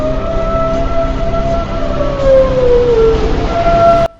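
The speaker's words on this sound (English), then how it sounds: "broken only by the wail of ambulances." A loud siren wails steadily, its pitch sliding slowly down and back up, continuous and close until it cuts off abruptly.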